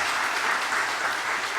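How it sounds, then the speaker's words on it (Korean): A church congregation at a Korean Sunday worship service applauds warmly: loud, steady, close clapping from many hands that fills the whole moment without a break. "박수 한번 뜨겁게 해주시기 바랍니다."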